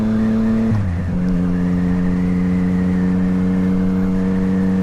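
Yamaha FZ-09 motorcycle with a full Akrapovic titanium exhaust and Power Commander, heard up close as a steady loud engine drone that drops in pitch at a downshift, then holds a lower rumbling tone, no talking.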